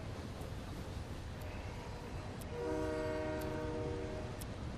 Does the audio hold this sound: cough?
no